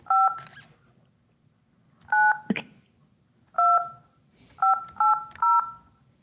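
Touch-tone telephone keys beep one after another as a number is dialed. There are six or seven short, clear tones in uneven groups, with a faint background hiss between them.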